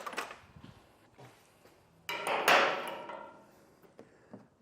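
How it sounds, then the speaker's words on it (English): A flathead screwdriver pries open plastic trim panel fasteners on a 2021 Honda Odyssey, making a series of close, sharp clicks, taps and a scraping pop, with quiet gaps between them. "sometimes it's a lot easier to use a flathead screwdriver to pry these open"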